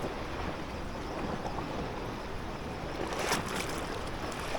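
Steady rushing wash of rough, choppy water around a small fishing boat, a continuous broadband churn with a brief brighter splash near the end, no talking.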